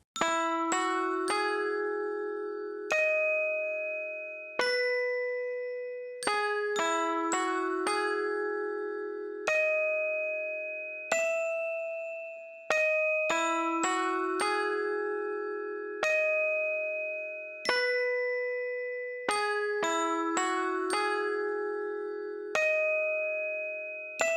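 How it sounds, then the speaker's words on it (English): A melodic line of bright, ringing bell tones played from a MIDI keyboard, single notes and chords struck one after another, each decaying slowly before the next. "a stem really quickly of the MIDI keyboard lines that I played on the bells here"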